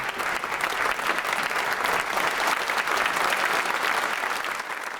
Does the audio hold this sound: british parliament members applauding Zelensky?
yes